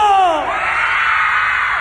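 Concert crowd at a live cumbia show in a theatre screaming together: a loud, sustained high-pitched roar of many voices, with one rising shriek fading into the mass of cheering.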